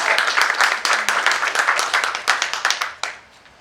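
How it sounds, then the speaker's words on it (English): A crowd at an outdoor Donate Life flag raising ceremony applauds organ and tissue recipients, a dense run of hand claps that thins and stops near the end. "let's give these two a round of applause"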